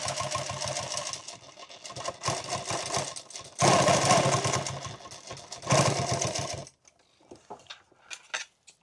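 Sewing machine zigzag stitching over fabric and webbing for a tactical fanny pack, a fast rhythmic mechanical whir in steady bursts with short pauses, then stopping to leave scattered light clicks and handling noises.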